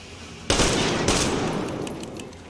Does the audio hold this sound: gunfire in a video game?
yes